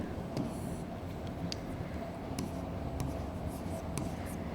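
Chalk or marker writing on a classroom board during a sociology lecture, a steady run of small scratchy strokes and taps close by with a constant room hum behind it, no talk over it.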